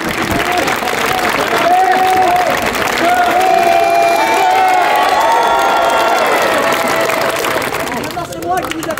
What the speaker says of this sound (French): C'est moi qui vous applaudis.